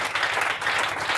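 Congregation clapping and cheering together in a church during a Sunday evening sermon, a dense, steady wash of applause filling the space without pause.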